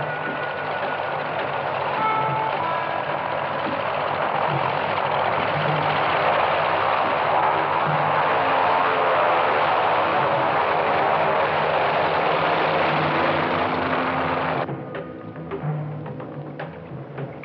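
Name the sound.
aircraft engine drone heard from inside during flight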